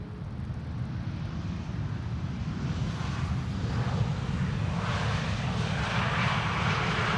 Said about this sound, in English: SAS flight 1553. A320 Neo arriving from Stockholm.